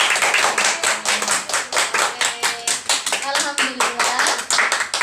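Pupils in a primary Islamic history class give a round of applause for a classmate, with quick, rhythmic hand claps close by and a few voices mixed in underneath.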